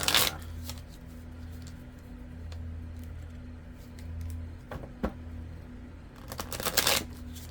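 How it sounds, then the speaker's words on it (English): Tarot cards are shuffled repeatedly, soft riffling and flicking with sharper snaps at the start and end, close up over a low steady hum. "Let's get a good shuffle going"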